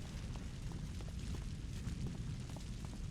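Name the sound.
explosions in City of Heroes video game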